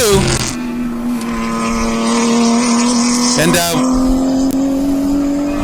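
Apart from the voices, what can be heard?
touring cars racing at Sonoma, USTCC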